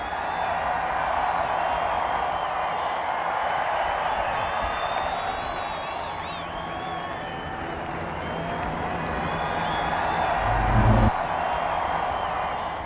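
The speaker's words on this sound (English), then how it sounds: "How about a round of applause for Yellow Driver?" At Indianapolis, a large outdoor crowd roars, cheers and whistles steadily after a Hot Wheels stunt-car jump. The sound is a broad, sustained wash with scattered whoops and a short thump near the end.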